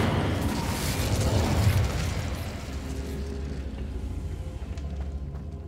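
Incendio fire spell in Hogwarts Legacy, a dense roaring blast of fire that holds steady for several seconds and then thins into a lower rumbling tail.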